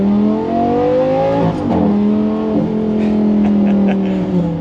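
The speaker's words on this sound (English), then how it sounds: "Couldn't pass up an opportunity to floor it in a straight line" A Lamborghini Gallardo floored in a straight line, its engine note climbing hard and loud with a couple of quick gear-change dips before pulling up again, close and continuous.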